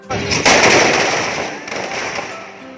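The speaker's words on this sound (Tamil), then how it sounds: "ராஜீவ்காந்தி சிலை அருகில் பட்டாசு வெடித்து பொதுமக்களுக்கு இனிப்புகள் வழங்கப்பட்டது" Firecrackers burst near a Rajiv Gandhi statue at a celebration of a Congress alliance candidate's election win, a loud rapid string of cracks and pops that fades over a few seconds.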